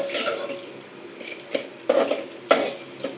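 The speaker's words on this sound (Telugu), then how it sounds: "సిమ్లోనే జాగ్రత్తగా వేయించుకోవాలి" Spice powder is roasted on a low flame in a pan for pappu pulusu, with a soft sizzle under several distinct stirring scrapes and clinks of a utensil against the pan, close by.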